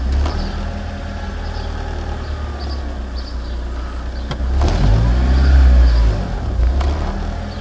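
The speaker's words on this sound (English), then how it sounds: "Now I'm going to just barely touch the accelerator and watch what it does." A 1992 Honda Prelude with a swapped JDM H22A engine idles steadily with a low rumble, then rises slightly as the throttle is lightly touched and settles back.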